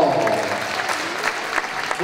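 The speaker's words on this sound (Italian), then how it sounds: "ma dai applauso ai costumi" Audience applause at a Christmas figure skating show in Montecchio Precalcino, steady crowd clapping under an announcer's amplified voice in an indoor rink.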